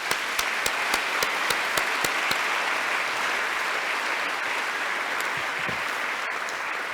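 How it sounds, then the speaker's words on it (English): Steady, dense applause from a conference audience at a closing ceremony continues throughout, with a few louder sharp claps near the front early on. "So let's give a round of applause to all of our keynotes and everyone who took the time to present over the last 4 days."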